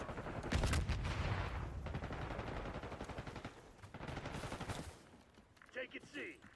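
An AK rifle fires in bursts of automatic gunfire in the Black Ops 6 shooter game, loud rapid cracks running through most of the moment and fading near the end to a brief softer mechanical rattle.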